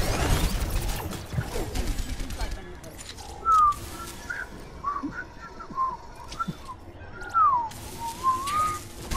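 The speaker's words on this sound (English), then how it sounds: "Whoever's whistling, it helps to know how to whistle." Whistling in the Overwatch video game, a few short rising and falling whistled notes scattered amid game noise, gunfire bursts and a speaking voice.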